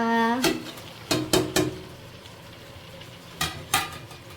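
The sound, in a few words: vegetables being added to cooked chicken in a pan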